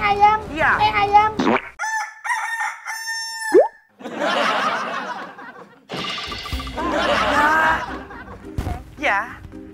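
A rooster crows loudly and nearby several times, with bursts of clucking and a few voices speaking in between.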